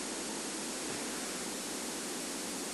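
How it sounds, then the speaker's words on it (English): Ear-grating floodgate opening effect from the Zelda: Oracle of Seasons video game, a steady loud rushing hiss like water pouring out, continuous and unbroken across the clip with no talk. "with this really ear-gritting sound effect, we opened the floodgate and actually lowered the water level severely"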